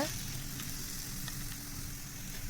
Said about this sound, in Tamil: எண்ணெய் விட்டு இந்த மாதிரி நல்லா சுட்டு எடுத்துக்கோங்க.